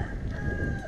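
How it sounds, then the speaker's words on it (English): A rooster crows in Legazpi, Philippines, a sustained strained call held steadily over low rumbling background noise, moderately loud and close. "Every time I turn this thing on, there's a rooster crowing."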